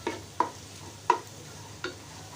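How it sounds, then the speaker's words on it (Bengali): Onions frying in a pan for pilaf, with three or four distinct scraping stirs of a spoon at regular intervals over a quiet, steady low sizzle, close and fairly soft. "এটা পেঁয়াজটা ভাজা হয়ে গেছে,"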